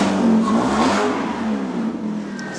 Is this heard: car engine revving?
yes